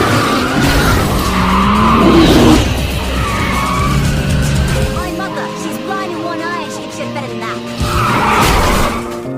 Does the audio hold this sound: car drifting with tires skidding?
yes